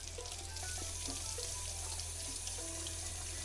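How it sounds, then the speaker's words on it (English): A kitchen tap runs steadily as a tasting spoon is rinsed under it, a close, even hiss of flowing water with faint clinks, no talking. "We're going to wash our spoon off."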